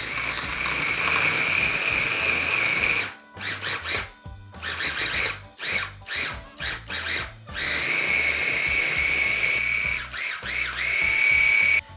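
A blender whirs through a batch of peppermint banana ice cream, loud and close, its motor whine running steady for a few seconds, then stuttering in short bursts and pulses before surging back to a long continuous roar.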